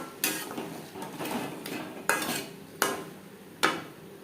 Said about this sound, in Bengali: দিয়ে দেবো মশলার পেস্ট বেশ ভালো করে মিক্সড করে দেবো